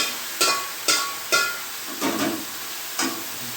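Meat fries in a pan with browned onions: a low sizzle with about five sharp clanks of a spoon or spatula striking the pan, no voices.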